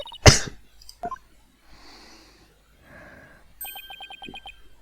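A sharp, loud cough bursts out at the start, followed by a smaller second cough, then soft breathy noises and a string of short electronic beeps, from the video game Ace Attorney: Dual Destinies.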